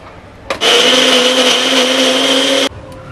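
A mixer grinder whirs at full speed grinding ginger, garlic and onion into paste, a loud steady motor whine that starts abruptly, runs about two seconds and cuts off.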